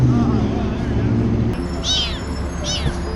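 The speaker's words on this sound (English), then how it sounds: "The kitten's in there. We got him in the trap." A kitten gives two thin, high-pitched mews in the later half, heard over a low rumble and murmuring voices.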